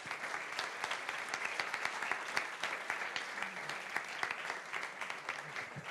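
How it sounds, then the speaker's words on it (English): An audience at a Speck&Tech tech meetup claps for the next speaker. The applause is brisk and steady, with many distinct hand claps at a moderate distance and no talking. "Round of applause."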